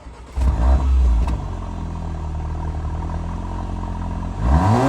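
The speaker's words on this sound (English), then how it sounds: "I absolutely love the quad exhaust tips that it has because they sound extremely nice." A Porsche Macan engine revs hard through quad exhaust tips in a deep, throaty burst, settles into a steady rumbling idle, then revs again near the end.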